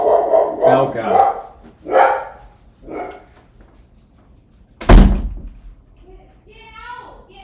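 A dog gives one loud, sharp bark close by, coming between stretches of someone talking. Faint high whining or squeaking follows at the end.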